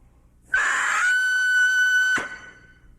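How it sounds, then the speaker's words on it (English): A bagpipe chanter reed starts with a brief screech, then settles into a steady, clear, solid high tone that is loud and close and lasts about a second and a half before stopping sharply. "you should be able to blow right through that screech to a solid tone,"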